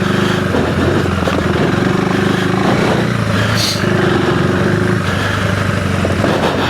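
Continuous mid-pitched single-cylinder engine drone from a 2025 KTM 390 Enduro R on a Tusk D-Sport rear tire, close and steady with slight throttle swells and a brief rise near the middle.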